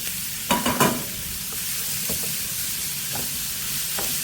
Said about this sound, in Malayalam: ക്യാരറ്റ് നന്നായിട്ട് ആ നെയ്യിൽ ഇത് വഴറ്റി കൊടുക്കണം കേട്ടോ